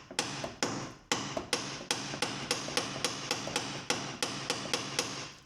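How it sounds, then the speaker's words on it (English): A hammer strikes a seized bolt on a Renault Clio RS200 again and again, sharp metallic blows landing in a fast, slightly uneven rhythm, loud and close with no talk. "Giving it a good old whack with a hammer and seeing if anything moves."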